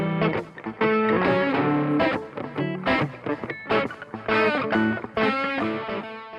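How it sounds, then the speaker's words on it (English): Distorted electric guitar tracks in a mix with an echo effect added play as dense, rhythmic chords and repeated phrases, loud and continuous, with no talking. "so I'm going to take bus 1 on the guitar tracks and make that an echo bus."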